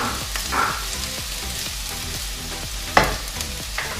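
Garlic and ginger cooking in a pan give off a steady sizzle, with repeated scraping strokes of stirring and a sharp utensil knock near the end. Nobody speaks.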